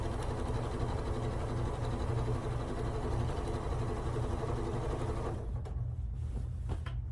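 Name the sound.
sewing fabric onto a blue strip with a sewing machine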